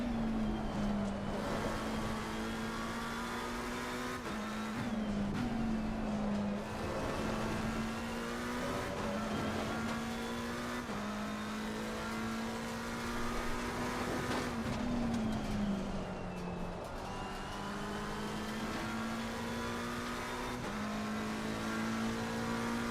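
A race car engine in Assetto Corsa Competizione at Brands Hatch drones and climbs through gears, its pitch rising and dropping with shifts and revs, steady and fairly loud with no voices over it.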